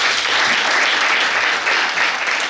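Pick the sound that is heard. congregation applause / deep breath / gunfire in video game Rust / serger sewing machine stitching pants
congregation applause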